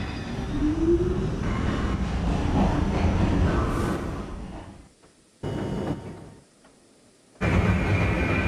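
A 10-car M train on the New York subway line runs loudly along the railway, rumbling and rattling steadily. The sound drops away into near silence twice and then returns, as if passing behind structures or through gaps.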